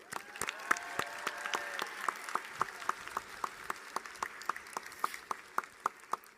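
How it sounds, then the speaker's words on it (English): Sparse applause from a commencement ceremony audience: a thin patter of individual claps with distinct, evenly spaced sharp hand claps standing out near the microphone, moderately faint throughout. "Everyone join me in a round of applause for Linda Choi"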